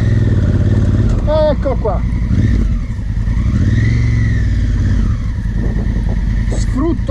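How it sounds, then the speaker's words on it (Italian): A dirt motorcycle climbing an unpaved hill with the rider standing and opening the throttle, its engine revving loud and close throughout with rising and falling pitch, while someone speaks briefly over it. "Mi metto in piedi, gas brillante e salgo."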